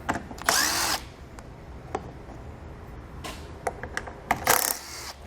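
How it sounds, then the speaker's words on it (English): Power tool with a 10mm socket removing under-shield bolts on a 2016 vehicle, two loud close bursts of whirring drill-like buzzing, one at the start and one near the end, separated by clinks and metallic taps, with no talking. "across the middle of our shield, we're going to have 4 bolts we're going to remove with a 10mm socket"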